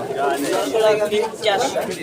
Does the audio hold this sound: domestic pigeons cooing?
yes